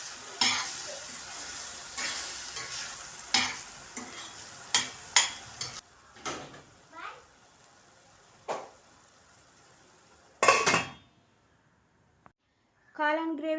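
Mushroom gravy with turmeric cooks in a pan, with a string of sharp stirring scrapes and clinks over a soft sizzle for the first half, then sparse knocks, a louder burst near the end and a brief clatter.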